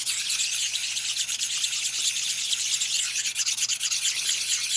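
Fine-grit honing stone, roughly 300 grit, working a part from a 1946 Harley knucklehead engine rebuild, a steady hissing, scratchy rubbing that continues closely and evenly without pause.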